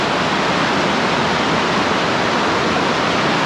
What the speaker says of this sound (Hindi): बहता हुआ पानी वो सामने कुंड की तरफ जा रहा है।